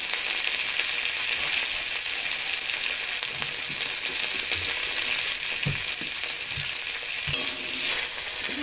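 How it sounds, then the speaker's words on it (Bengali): Cauliflower fries in a pan with salt, browning as it cooks, giving a constant bright hiss of sizzling oil with scattered soft stirring knocks and scrapes and no talking. "দিয়ে ফুলকপিটা লাল লাল করে ভেজে নেব"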